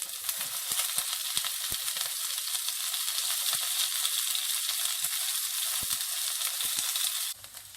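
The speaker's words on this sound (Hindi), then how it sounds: "अब मैं इसमें भिंडी डाल रही हूँ और इसे हम धीमी आंच पर 5 से 6 मिनट तक पका लेंगे।" Okra frying in hot oil in a kadai over low heat, a continuous dense sizzle with scattered crackles and pops that holds steady, then drops slightly near the end; no talking.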